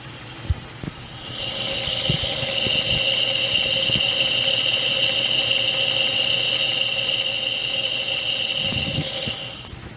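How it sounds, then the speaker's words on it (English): A running car engine is heard up close, checked for timing chain noise or scratching against the timing cover, with a steady idle hum, a high whine and scattered light ticks and knocks throughout. "listening for timing chain noise or possible scratching against the timing cover"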